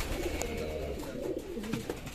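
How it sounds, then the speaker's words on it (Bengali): Pigeons coo in a village loft where Shirazi pigeons are kept, low rolling calls overlapping close by in a brief, steady burst. "এই যে দেখুন এখানে আসলে অনেক টাকার কবুতর আছে"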